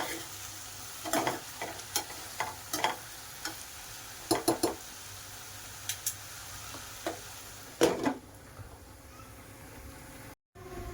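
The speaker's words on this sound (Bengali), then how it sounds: "একটু নাড়াচাড়া দিয়ে ভালো করে তরকারিটা ভেজে নেব।" Vegetable curry stirred and fried in a pan over a medium flame, a steady low sizzle broken by repeated clattering scrapes of the spoon at irregular intervals, close and moderately loud, with no talking.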